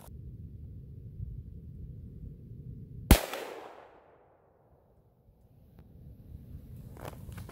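A single sharp, loud rifle shot from a 7mm Remington Magnum firing 155gr Federal Terminal Ascent cracks out of low outdoor hiss, then a rumbling tail fades into near silence.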